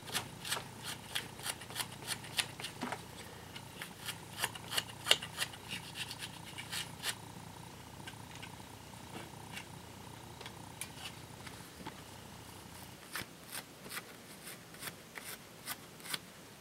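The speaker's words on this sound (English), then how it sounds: "Just going to take a little bit of Scotch-Brite to it." A Scotch-Brite pad scrubs an alternator part from a 1975 Suzuki GT750 motorcycle engine, making quiet, close, uneven rubbing strokes with short scratchy bursts that repeat at irregular intervals across a faint background.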